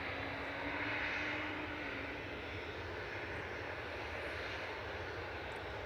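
Aircraft taxiing in at Manchester Airport, a steady broadband jet engine roar held at moderate distance throughout, outdoors with some breeze.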